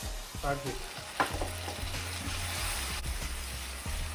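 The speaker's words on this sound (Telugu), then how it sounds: "ఇలా తిప్పుకుంటూ సో కింద ఉన్న చికెన్ పైకి వస్తున్నట్లు ఇలా మిక్స్ చేసుకుంటూ ఫ్రై చేసుకోవాలి" Chicken curry fries and sizzles in a pan while a ladle stirs it, turning the pieces from the bottom up as the gravy dries, with a few scraping knocks early on over a steady close hiss.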